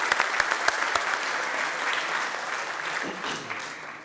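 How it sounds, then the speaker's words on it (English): Audience applause for a professor at a print industry summit, opening with a few sharp individual claps before swelling into a sustained, even wash of clapping that tapers slightly near the end. "Big round of applause for Professor Rishi Kumar Pandya."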